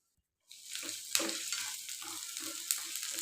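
After a half-second of silence, chopped ginger, garlic and green chilies hit hot oil and sizzle loudly, a sustained crackling fry with a sharp pop or two and faint stirring underneath.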